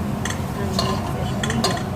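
Beefsteak mixture being stirred in a pan after multi-purpose flour is added, with soft scraping strokes in a few spaced bursts over a low, steady background sizzle.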